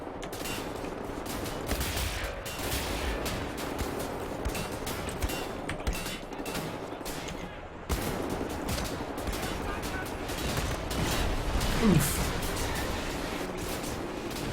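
Gunfire in the video game Wolfenstein: The New Order, rapid automatic bursts and shots in steady clusters over a busy game soundscape, with someone talking at points.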